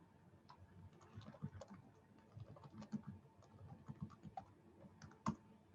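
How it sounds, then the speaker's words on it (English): Quiet, steady keystrokes on a computer keyboard, with irregular bursts of clicking taps heard close up and uninterrupted for several seconds. "let's see if I can actually type it in here to everybody."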